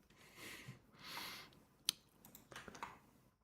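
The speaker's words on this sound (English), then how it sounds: "I just love the sound of the keys" Faint clicking of keys on a budget, portable RGB computer keyboard, with soft scattered taps and a few sharper clicks in a quiet room.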